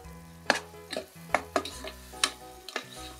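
Peas and potatoes sautéing in a pan with onion and tomato, the spoon stirring and scraping in several separate strokes over a soft, steady sizzle, close and fairly quiet.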